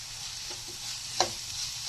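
Tomato masala for a fish dish sizzles gently in a pan while a utensil stirs and scrapes it, with a couple of sharper clacks against the pan and no talking.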